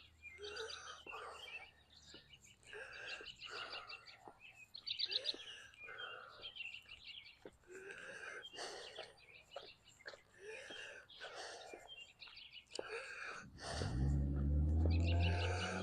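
Robins singing outdoors on an Easter morning walk, a run of bright repeated chirps and short phrases at moderate distance, ending in a burst of loud low rumble like wind or handling noise.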